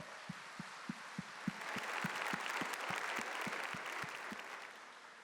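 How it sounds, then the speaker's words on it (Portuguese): Crowd clapping at a religious gathering swells from a few scattered claps into fuller applause, with a slow, steady thumping beat running beneath it, moderately quiet and fading slightly at the close. "Shall we give a big clap?"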